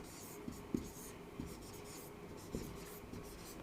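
A long name being handwritten in Hindi during a lesson on India's major lakes: faint, close scratching of pen or chalk strokes with a few soft taps, quiet and alone.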